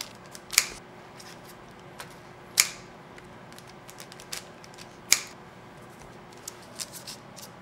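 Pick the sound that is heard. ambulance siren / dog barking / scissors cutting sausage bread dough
scissors cutting sausage bread dough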